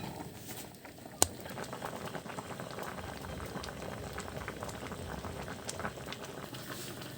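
Squash in coconut milk simmers and boils in a pot, a dense, steady bubbling and popping close by, with one sharp click near the start.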